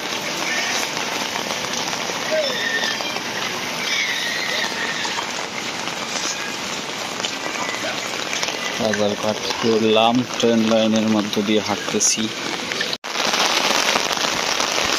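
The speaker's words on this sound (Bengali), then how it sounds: "প্রচন্ড বৃষ্টি পড়তেছে, দেখুন প্রচন্ড রকম বৃষ্টি পড়তেছে একদম" Heavy rain pours steadily, a dense hiss of drops hitting surfaces, while someone talks over it and another voice sounds briefly.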